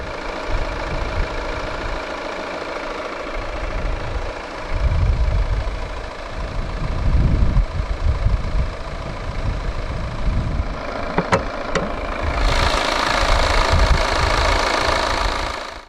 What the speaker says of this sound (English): The 2016 V60 D4 is powered by a 2-litre, dual overhead cams, 16 valves turbodiesel inline-4 engine with common rail direct injection.